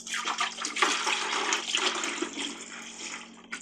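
Ice machine cleaner solution pours into an ice maker, giving a steady close liquid splash and trickle for a few seconds with a slight dip near the end.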